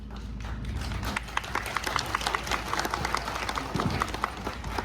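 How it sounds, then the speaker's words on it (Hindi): Audience applause welcomes stand-up comedian Uday Laiya onto a live comedy stage, a steady dense patter of many hands clapping close and loud through the whole stretch, with occasional sharper claps and faint voices underneath. "तालियों के साथ स्वागत कीजिए उदय लैया का"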